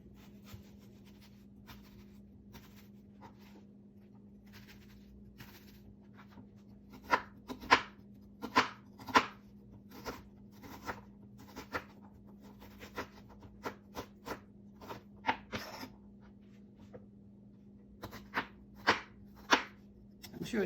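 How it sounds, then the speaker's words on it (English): A knife roughly cutting an onion on a cutting board while preparing collard greens, quiet separated chops at first, then irregular bursts of sharp taps with short pauses, close and fairly soft. "I'm going to give this onion a rough cut."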